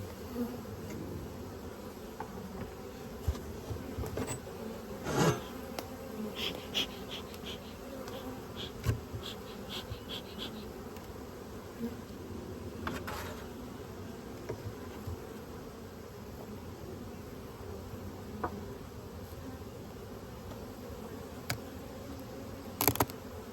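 Honeybees swarm around an open hive during a spring colony split, a steady close buzzing drone with individual bees zipping past the listener now and then, continuous throughout with no talking.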